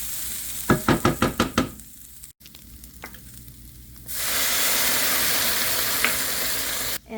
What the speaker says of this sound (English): we're going to add a little bit of water to deglaze the pan here